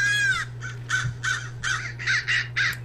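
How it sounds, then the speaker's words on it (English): Repeated crow caws, about seven harsh calls in an uneven rhythm, fairly close and loud over a steady low hum inside a house in the game Hello Neighbor. "oh, it's a crow. Why is there a crow in his house?"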